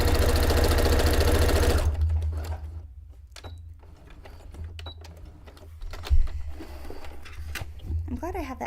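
A sewing machine stitches a backstitch on a miniature townscape cone-shaped cape, running in a loud, dense whir for about two seconds before stopping; quieter handling clicks follow and someone talks afterward.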